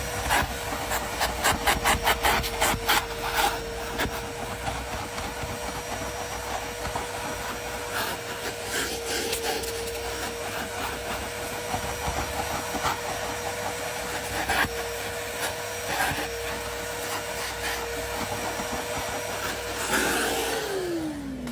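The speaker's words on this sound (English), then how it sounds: "we're going to start off actually vacuuming out the carpet with my DeWalt wet and dry vacuum" A DeWalt wet and dry vacuum whines and roars throughout with scraping and rubbing as the nozzle drags over car carpet, loud and close, with a few sharper clatters near the start.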